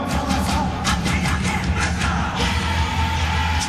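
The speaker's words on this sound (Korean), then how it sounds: "이렇게 큰 박수로 환성을 함께 해주시고요" Stadium crowd at a Suwon versus Jeju football match roaring and cheering as the players walk onto the pitch, a dense, steady wash of massed voices with scattered claps throughout.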